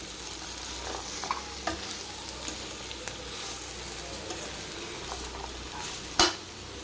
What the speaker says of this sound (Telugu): సాల్ట్ అంతా కూర అంతా కలిసేలా కలుపుకుందామండి